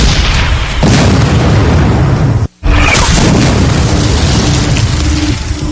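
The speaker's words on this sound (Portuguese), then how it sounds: "era barrado a tiros de canhão" Cannon fire in a battle scene of the American Civil War, heavy loud booms and rumbling blasts filling the whole stretch, broken by one brief silent gap before the barrage resumes.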